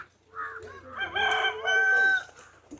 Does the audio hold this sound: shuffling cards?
no